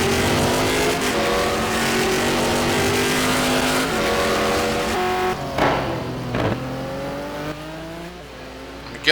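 Ford GT1 race car in a racing video game at Fuji, engine droning loud and steady with rising and falling revs through gear changes, continuous across the whole stretch.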